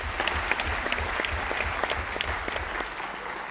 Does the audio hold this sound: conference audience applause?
yes